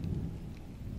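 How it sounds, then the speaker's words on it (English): A low, rumbling roar with a steady wash of rain, like a thunderstorm close by on the coast, heard briefly and without voices. "the rain's starting to come down a bit faster"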